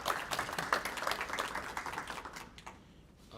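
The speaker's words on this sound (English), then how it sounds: "Round of applause." A small audience at a student literary magazine launch claps for an award winner, a brief patter of hands that thins out and fades toward the end.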